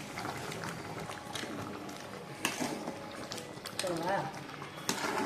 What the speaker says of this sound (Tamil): எப்படி கொதிக்குது பாருங்க